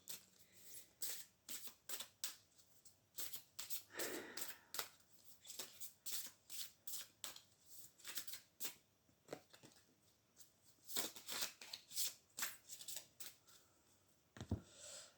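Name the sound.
shuffling oracle cards for a card reading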